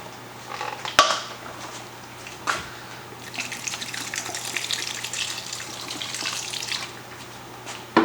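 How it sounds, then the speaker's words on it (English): Water pours from a container into a crockpot of beef stew, a soft gushing splash that swells in the middle and then tapers off, with a couple of knocks at the start and end and no talking. "I think I should put a little bit more water in here"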